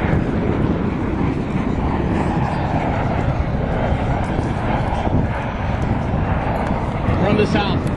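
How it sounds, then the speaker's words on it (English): Two AV-8B carrier jump jets approach from the south over San Diego Bay during a naval aviation parade of flight, a steady loud jet roar with wind buffeting on the microphone, continuous throughout with crowd voices underneath. "From the south, two AV-8B carrier jump jets are now approaching to demonstrate."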